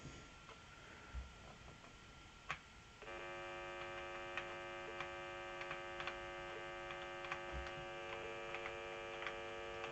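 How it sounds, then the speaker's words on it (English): Steady electrical drone from an Apple IIe computer, a constant hum with stacked tonal lines that swells louder partway through and then holds, with faint ticks and clicks on top and no speech. "Oh, I can't stand the noise, the droning."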